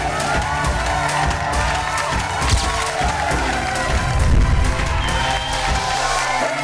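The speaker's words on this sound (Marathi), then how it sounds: "जोरदार टाळ्या ताईंसाठी होऊन जाऊ दे." Studio audience on a Marathi women's game show erupts in loud, sustained applause and cheering, with whoops and shouts over steady clapping that swells briefly near the end.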